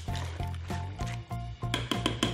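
Ingredients are stirred in a hot pot speed cooker, making wet, squishy, sloshing scrapes in uneven pulses close by.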